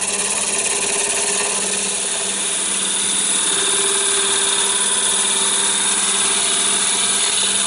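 A wood lathe turns an egg cup, giving a steady, loud, continuous whirring hum with a bright high-pitched hiss of the cutting tool peeling wood, constant throughout with no talk.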